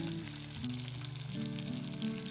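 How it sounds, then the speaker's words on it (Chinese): Marinated chicken wings sizzle steadily in hot oil in a wok, a continuous close hiss running under a loud melodic music track. "然后把腌制好的鸡翅先煎一下"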